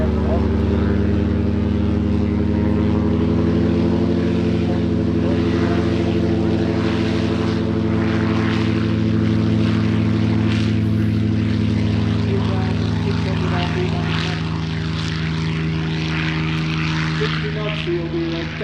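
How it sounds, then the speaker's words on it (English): A Bosbok propeller aircraft takes off at an airshow in Middelburg, Mpumalanga, South Africa, its loud, droning engine and propeller buzz holding steady throughout, with an announcer talking over it. "The Bosbok Aerobatic Italia aircraft"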